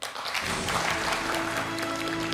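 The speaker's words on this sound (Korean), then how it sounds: "다시 한번 큰 박수 보내주시죠" Audience applause at an award ceremony honoring medical staff, a loud, dense, sustained burst of clapping that rises quickly and holds steady, with no talking over it.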